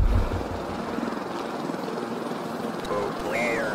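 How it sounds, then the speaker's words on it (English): A helicopter flies overhead in a horror video game, a steady rotor and engine drone that thumps loudly at first and then holds as a continuous roar, with game tones rising near the end. "It's a chopper."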